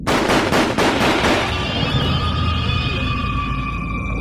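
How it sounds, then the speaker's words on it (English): Gunshots ring out from a schoolhouse in a rapid burst of loud, sharp reports during the first second and a half, then a lingering echoing rumble and ringing tail. "A short time later, gunshots ring out from the schoolhouse."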